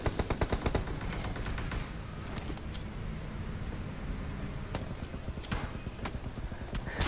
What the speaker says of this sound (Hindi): क्रूएल के ऊपर फायरिंग चालू हो चुकी है